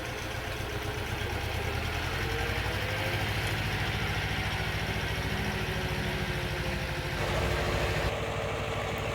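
The small diesel engine of an Iseki TS1610 tractor chugs steadily at idle, a continuous rattling drone with a slight rise near the end.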